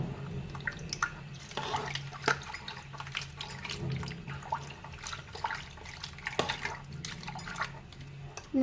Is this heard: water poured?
yes